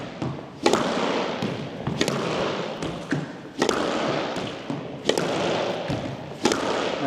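A squash ball is struck with short punch swings in a side-to-side drive drill, sharp racket hits and wall thuds repeating about once a second, with the rally continuing close by and no talking.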